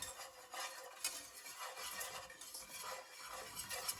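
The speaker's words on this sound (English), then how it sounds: "Continue mixing that for a couple of minutes so it could cook down and form a paste." Butter and flour roux stirred in a pan, cooking down into a paste for a soft, lower-sodium Thanksgiving dish; a steady scraping, swishing stir with light utensil clinks runs throughout at moderate level, with no voices.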